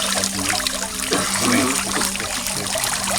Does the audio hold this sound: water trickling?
yes